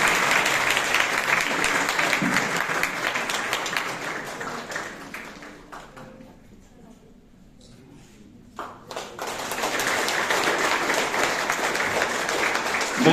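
An audience at a Hindi-language innovation festival applauds loudly and steadily, then the clapping thins to near silence before a second strong burst of applause resumes.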